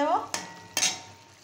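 Spice masala for egg curry cooking down in oil in a pan, a faint continuous sizzle broken by two sharp stirring scrapes of a spoon against the pan, close and without talk.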